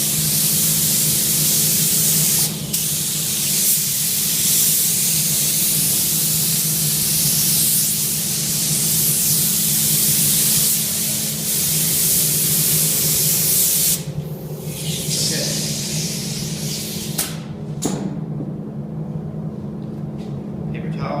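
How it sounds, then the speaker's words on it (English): Continuous close airbrush hiss as compressed air blows paint onto a surface, loud and unbroken for most of the stretch, then easing off with a few clicks and short bursts toward the end. "I'm just using air to splash on my paint."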